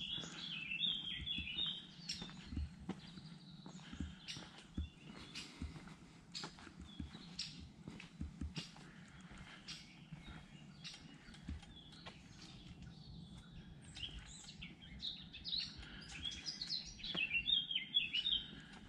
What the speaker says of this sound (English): You can probably hear the birds chirping quite a bit